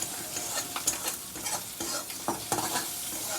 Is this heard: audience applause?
no